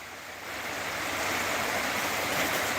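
Creek water flowing, a continuous broadband rushing wash that swells slightly louder after the first half second and holds steady, close and fairly loud with no talk.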